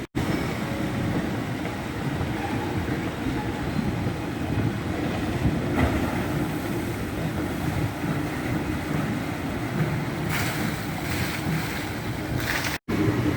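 A log flume water ride at Chessington World of Adventures theme park splashes and rushes continuously with churning water and a low mechanical rumble, heard up close without talk.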